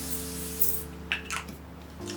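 Makeup setting spray misted from a bottle during a makeup session, giving a couple of short, close hissing bursts over a quiet background hum.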